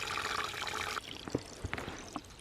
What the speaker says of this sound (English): You can flush the toilet and run the bathtub and let's see how it goes.